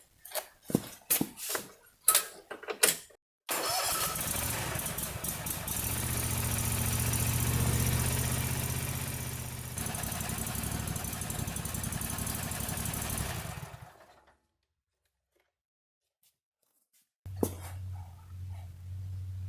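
An Exmark Radius zero-turn lawnmower engine cranks and starts after an oil change, with bursts of cranking before it catches and runs at a loud steady roar, then shuts off into silence before a low hum resumes.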